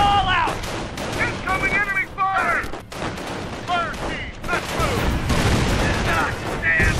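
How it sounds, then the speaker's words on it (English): Heavy enemy gunfire in Company of Heroes rattles as dense, continuous volleys of shots and bursts, layered with whistling shells and battlefield clamor at steady loud volume. "Heavy enemy fire on our position!"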